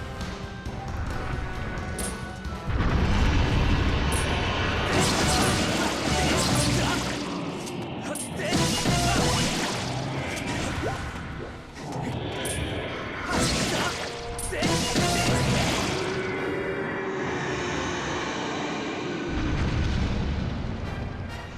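A cannon firing bombs in Skyward Sword HD: a string of heavy booming blasts and crashing impacts repeats every few seconds over a long stretch, loud and full, with occasional talk between them.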